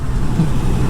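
Car traffic on a busy São Paulo expressway at night, a brief, loud, continuous roadway rumble of passing vehicles with no distinct pauses.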